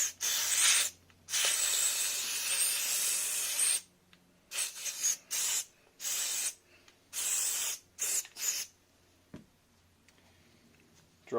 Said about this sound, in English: I'm going to go ahead and just throw some lithium grease in there